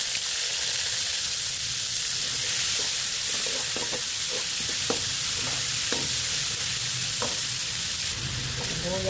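Ginger frying in a pan with oil left from garlic, a loud continuous hiss and sizzle close by with scattered crackles and light stirring taps, no voices.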